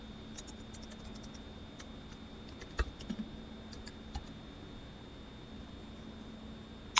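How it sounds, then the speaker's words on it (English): Light keyboard typing of a command on a computer, a few soft scattered keystrokes with one sharper tap, faint against a steady electrical hiss. "Then I'm going to type register-DNS client."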